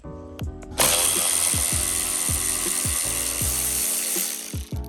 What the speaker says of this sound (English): so I can get the ratchet set and get that right off